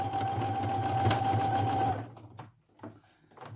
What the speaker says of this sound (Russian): Это я вышиваю шелком вышивальным.